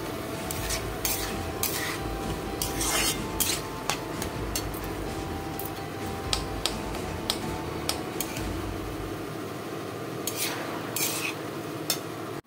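Grains of rice tipped into a pan of fried masala on a home stove, followed by steady stirring and scraping with a utensil and a soft sizzle throughout, close and continuous with no talking.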